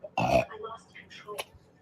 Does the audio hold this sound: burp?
yes